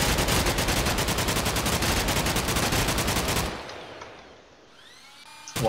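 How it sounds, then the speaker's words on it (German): A minigun fires in Minecraft in a rapid, continuous burst of dense shots for a few seconds, then stops abruptly, leaving a quieter whir and faint mechanical sounds. "ich werde die Minigun verwenden"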